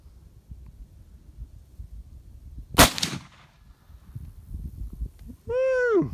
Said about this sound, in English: don't put your finger on the trigger till you're ready to fire